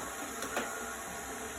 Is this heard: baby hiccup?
no